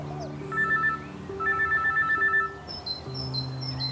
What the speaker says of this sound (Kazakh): Маман қоңырау шалып отыр.